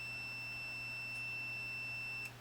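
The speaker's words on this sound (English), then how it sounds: "That just gives you a buzzer when you've got continuity" A Mustool MT10 multimeter sounds its continuity buzzer as a steady, thin high-pitched tone over a low hum. It runs unbroken and fairly faint.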